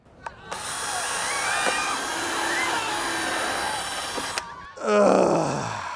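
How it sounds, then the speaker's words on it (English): A power drill whirs steadily for several seconds drilling holes in a Corvette spoiler, stopping briefly, then a short burst of another whining motor follows, close and loud. "we're going to go ahead and start drilling some holes"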